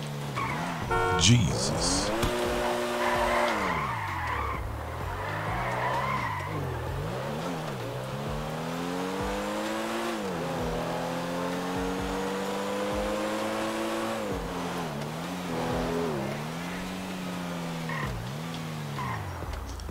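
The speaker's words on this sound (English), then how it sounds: "a video on how to install a drift racing map. And as you can see, I need all the practice I can get." A car in GTA 5 slides around an Okutama drift track, its engine revving and falling in long sweeping pitches over a steady tire-skid hiss; a man exclaims briefly near the start.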